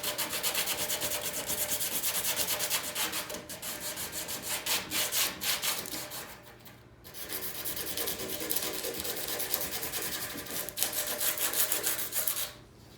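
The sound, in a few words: scuffing a surfboard surface by sanding for repair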